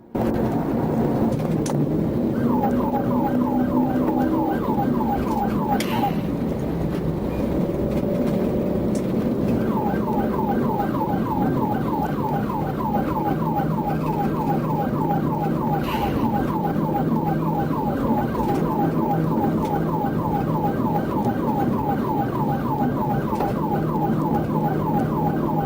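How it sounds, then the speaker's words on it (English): A police car siren wails in repeated rising and falling cycles during a high-speed pursuit, loud and close, over a steady rumble of engine and road noise. "Once I activated my lights and sirens, the vehicle increased its speed, and a pursuit ensued."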